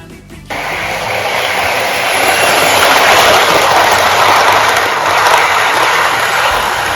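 HO scale model train of international rolling stock running on an old layout track, a steady close whirring rumble with faint clatter starting after half a second and continuing evenly without talk.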